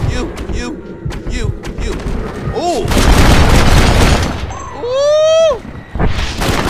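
Gunfire from the Red Dead Redemption video game: several loud booming shots ring out over a busy game soundscape, with a voice speaking briefly and exclaiming in between.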